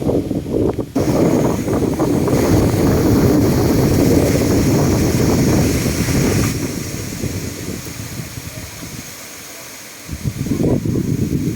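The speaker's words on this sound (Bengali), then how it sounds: "কি ঝড় বয়ে হচ্ছে, প্রচণ্ড ঝড়।" Strong storm wind from Cyclone Remal blows hard through a village, a loud roaring buffet against the microphone that eases near the end before gusting back up.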